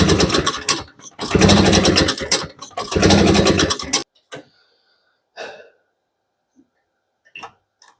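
A barn-find Boa Ski snowmobile, freshly rebuilt after sitting, cranks in three loud rough bursts of rapid pulsing engine noise that fail to catch, followed by near silence with a few faint clicks and knocks.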